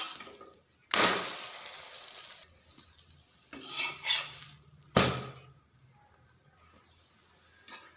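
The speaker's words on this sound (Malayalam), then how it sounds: "കുറച്ച് ബാറ്റർ ഒഴിച്ച് ഒന്ന് പരത്തി കൊടുക്കാം." Breakfast batter poured onto a hot pan, spread and later flipped: a loud sizzle bursts in near the start, settles into a frying hiss with scraping, then flares again midway before fading. No one speaks.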